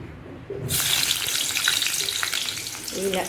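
Sliced onions hit hot oil in a pan for a cauliflower curry, bursting into a loud, close, continuous sizzle that carries on steadily, with faint clinks of stirring underneath.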